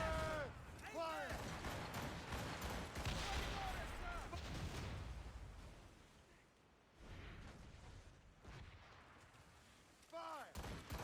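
Ship cannons firing in Assassin's Creed Rogue, a naval battle in the game, with a dense roll of booming shots and crackling impacts that run through most of the stretch under shouted voices, followed by a brief lull and more blasts near the end.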